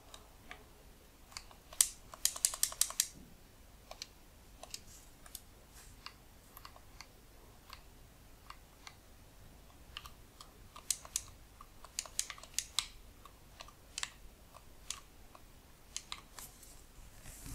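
Quiet typing on a computer keyboard while playing an Amiga 1200 game through Batocera 37, scattered keystrokes in short flurries with pauses between, faint and close.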